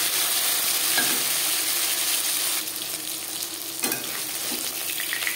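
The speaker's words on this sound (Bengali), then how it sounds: "মাছ একটা সাইড ভাজা হয়ে গেলে অপর সাইড উল্টে দেব" Fish frying in a pan for a light fish curry, a continuous close sizzle with a few faint clicks and one sharp knock near the end.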